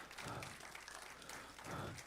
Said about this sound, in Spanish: Dale un aplauso de gratitud al Señor